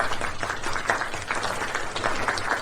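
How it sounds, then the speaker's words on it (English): Office staff at a company's head office applaud Supervisor Carter for landing a contract, a short burst of dense, close clapping from a small group, sustained and even without any talking over it. "Let's give him a round of applause"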